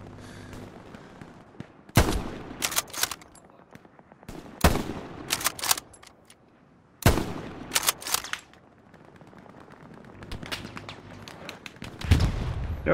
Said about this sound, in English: they're bombing us now